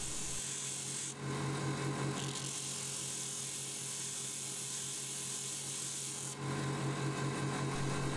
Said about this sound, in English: File this section smooth.